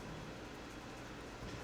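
In a video game stealth section aboard a train, a steady, low rolling rumble of rail cars carries on evenly and quietly, with no breaks and no voices.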